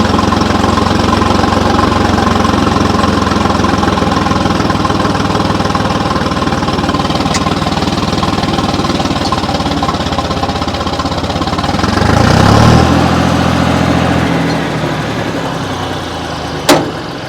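A John Deere tractor engine at about 1000 RPM, pulling a 10-foot rotavator, runs as a loud, steady diesel drone that swells slightly near the end before easing off, with a sharp knock at the very end.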